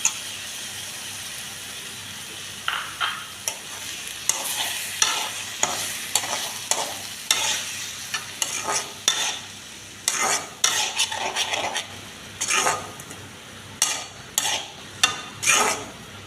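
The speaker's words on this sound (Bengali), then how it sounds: "প্রথমে এই যে পেস্টটা করে রেখেছিলাম সেটা ছেড়ে দিচ্ছি কাকরুল ভাজার ওপরে।" Spice paste hitting fried kakrol (spiny gourd) in a pan, steady close sizzling broken by repeated scraping stirs of a spatula against the metal pan.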